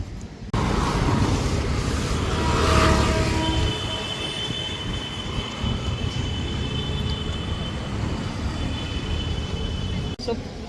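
A Mumbai local train runs on its suburban line from Nerul toward CST, heard from inside as a loud, continuous rumble with sustained high wheel squeals and a brief clunk near the end, and no voices over it.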